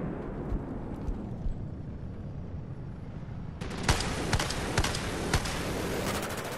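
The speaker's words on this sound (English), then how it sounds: "I don't know what's shooting at me" Gunfire in the Battlefield 4 shooter: a run of sharp, distant-to-mid shots from about halfway through, irregularly spaced over steady battlefield rumble.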